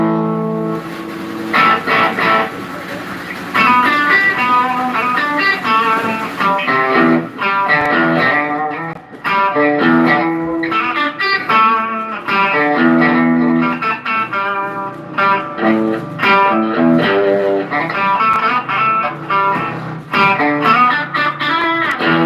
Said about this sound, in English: some distortion, and with that feature active, it sounds like this